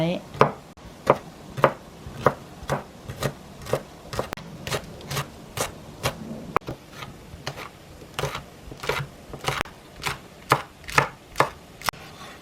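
A knife chops garlic on a cutting board in a steady series of sharp, evenly spaced strikes, about twenty of them, close and clear.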